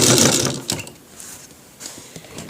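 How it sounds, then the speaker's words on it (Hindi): Sewing machine stitching a shirt collar: a loud, brief whirring run of stitches at the start, then scattered softer mechanical clicks and rustles of fabric, close and without talk. "हल्की हल्की से खींचते हुए इसको सिलाई करना है।"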